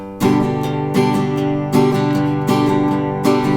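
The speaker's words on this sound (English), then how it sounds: "when you're strumming, you don't hit the bass note again, because then it sounds like this" Repeated full acoustic guitar strums re-hitting the bass note each time, a heavy low bass in each, four or five strokes ringing together in a steady rhythm with reduced clarity.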